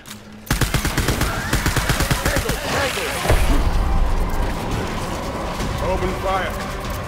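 Video game gunfire in Death Stranding: loud, rapid bursts of automatic weapon fire in dense repeating volleys, with heavy impacts and booms mixed in, sustained for several seconds.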